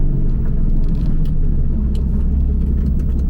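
Loud, steady low rumble of a Stage 2 tuned Porsche 911 (991.2) Carrera S at speed on a dyno, heavy tire noise, heard from inside the cabin, no voices.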